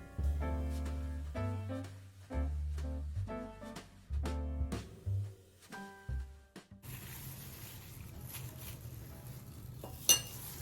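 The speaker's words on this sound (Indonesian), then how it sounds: "kita aduk seperti ini" A flour batter for crispy fried bananas being stirred in a bowl, with a run of clinking utensil knocks against the bowl first, then a softer continuous wet mixing and scraping, close up and without talk.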